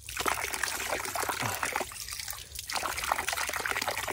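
Spring water gushing steadily from a pipe outdoors while wild vegetables are gathered on a sunny day, a continuous splashing trickle close by with no break and no talk.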